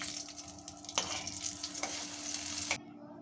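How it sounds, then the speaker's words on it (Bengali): Pointed gourd (potol) fries uncovered in oil in a pan, a soft, close sizzle broken by a few sharp utensil scrapes and stirs, and then it cuts off abruptly into near silence. "তাই পটলটা আমি না চাপা দিয়ে ভালো করে ভেজে নেব।"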